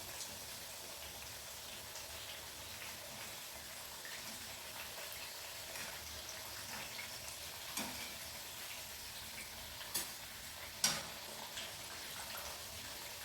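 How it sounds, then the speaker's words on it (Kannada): Onion frying toward brown for Maddur vada gives a faint, even sizzle throughout, with a few brief scraping knocks near the end. "ಈರುಳ್ಳಿ ಅದು ಬ್ರೌನ್ ಆಗೋವರೆಗೂ ನೀವು ಮಾಡ್ತಾ ಇರಬೇಕು."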